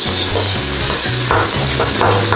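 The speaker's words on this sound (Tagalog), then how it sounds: "mainit po ang ating mantika. So lagyan na po natin ang ating sibuyas" Onion frying in hot cooking oil, a loud, close, continuous sizzle with the steady crackle of stirring and no voices.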